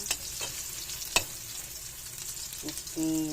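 Longganisa sausage browning in a pan, a steady soft sizzle with a few sharp scrapes and clicks of stirring, close and mostly alone until a brief tone at the end.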